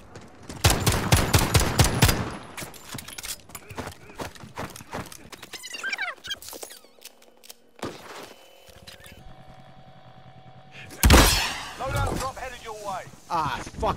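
Video game combat, with rapid bursts of gunfire and scattered shots mixed with clattering effects, loud in places and broken by quieter gaps, with someone talking over parts of it.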